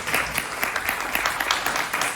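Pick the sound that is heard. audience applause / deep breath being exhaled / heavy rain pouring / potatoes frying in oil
audience applause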